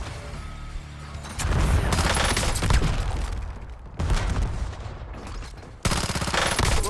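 Heavy automatic gunfire in Warzone, loud sustained bursts that cut off abruptly and resume in several blocks, close and dominant, with no clear talking.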